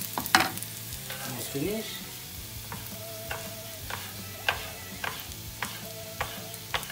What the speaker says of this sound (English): you have to just saute the onions